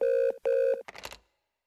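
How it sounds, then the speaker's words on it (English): A telephone rings in the horror video game Unspoken: two long electronic ring bursts with a short gap, loud and close, followed by a brief clattering sound as it cuts off, then silence. "Oh, the phone's ringing."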